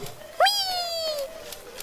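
One clear, drawn-out cat meow, fairly close and moderately loud, rising sharply then tailing off slowly over a quiet background.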